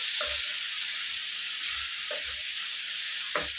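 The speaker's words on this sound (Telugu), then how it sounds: "ఒక 2 నిమిషాలు కలుపుకుంటూ ఫ్రై చేసుకున్నామండి" Prawns frying with fenugreek leaves in a pan, a steady bright sizzle throughout with a few soft stirring scrapes at intervals, close and alone with no talk.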